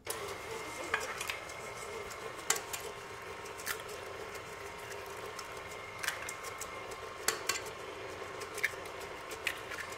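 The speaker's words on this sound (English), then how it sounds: "I'm gonna add the eggs first. We're gonna mix them one by one." Eggs are stirred one at a time into warm brownie batter for caramel toffee chocolate chunk brownies. Faint, sporadic scraping and clinking comes from the bowl over a quiet background.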